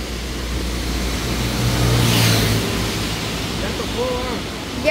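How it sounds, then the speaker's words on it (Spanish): A struggling car engine labours uphill, a loud continuous low rumble and roar with rushing broadband noise that swells in the middle and eases slightly toward the end. "No sube el carro."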